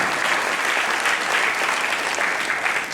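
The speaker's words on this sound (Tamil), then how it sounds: "உங்கள் கரகோஷத்தை முழுமையாக திறந்து" An audience at a Tamil pattimandram debate session in Australia breaks into dense, loud, continuous applause that holds steady and close for several seconds.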